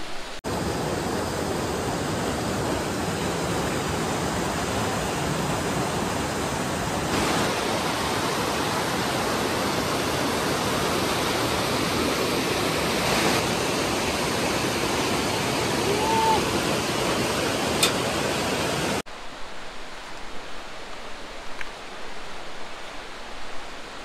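A mountain stream rushes at a water crossing on the Valley of Flowers trek in Uttarakhand, a loud, broad, continuous roar close by that cuts off sharply near the end to a much quieter background.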